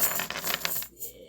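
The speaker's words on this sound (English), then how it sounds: "There's also a bag that clinks." Coins clinking inside a bag, a bright jingle of metal pieces shifting and tapping together in quick irregular bursts, close up, then trailing off into quiet.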